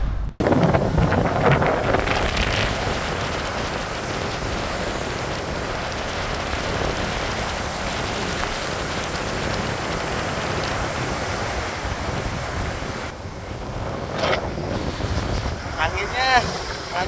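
Strong wind buffets the microphone at Natsepa Beach in Ambon during the rainy season, a loud, continuous rumbling rush with gusty surges, with faint traces of a voice beneath it.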